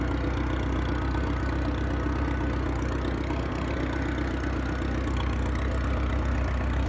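A 1919 Cooper engine held at a steady, slightly raised throttle, a dense low rumble with a constant mechanical chug, close and unbroken for the whole stretch.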